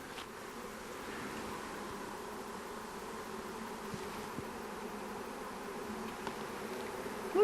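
A honey bee swarm buzzes steadily inside a hive box while being rehomed, a dense continuous drone at moderate level that holds evenly throughout with a brief louder rise at the very end.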